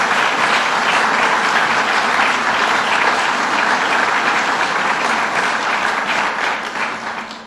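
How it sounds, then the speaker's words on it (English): Sustained, loud audience applause for state troopers at a governor's bill-signing event on heroin and opioids in Buffalo, a dense steady wash of clapping that eases off at the end. "we give them another round of applause"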